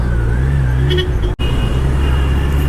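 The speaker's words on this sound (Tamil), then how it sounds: "என்ன இவ்வளோ டிராஃபிக்கு" Dense road traffic on the Ukkadam flyover in Kovai, a steady broadband rumble of engines with a brief horn-like tone partway through, heard up close from a motorcycle with no one talking.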